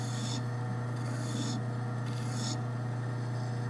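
A metal file rasping the corner of a hand-made plane-adjusting hammer, three short even strokes over a steady background hum, close and fairly quiet, with no talk.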